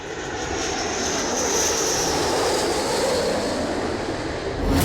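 A B-1 bomber roars overhead in flight, a loud continuous jet rumble with a rising and falling whine and a swell near the end, with no voices.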